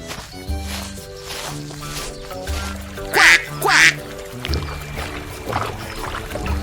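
A small white duck gives two loud, close quacks in quick succession during a children's farm-animals lesson, with light background music playing throughout.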